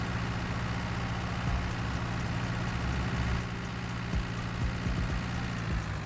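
A tractor engine idles in Farming Simulator 19, giving a steady, low, continuous rumbling drone that holds at the same loudness throughout.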